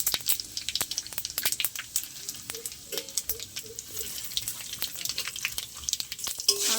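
Dried red chillies, bay leaves and five-spice tempering sizzle in hot oil, a steady near crackle with scattered pops and spits throughout, no voices.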